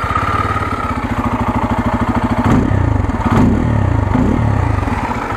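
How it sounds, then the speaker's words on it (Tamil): A Bajaj Pulsar F250 motorcycle engine idles with a steady low pulsing rumble, then is revved twice in sharp bursts before settling back to a throaty idle. "Exhaust note கேட்டலாமா?"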